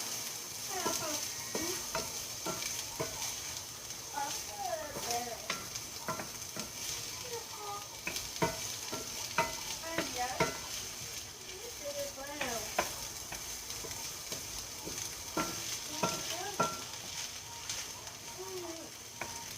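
Burrito filling pre-cooks in a pan with steady sizzling under repeated scraping stirs, close and continuous throughout.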